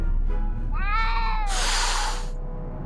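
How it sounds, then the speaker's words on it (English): A cat meows in the Back to the Future video game, one drawn-out wavering meow followed by a loud hissing burst, close and clear over a low hum, with no talking. "I didn't see a cat, but I heard one."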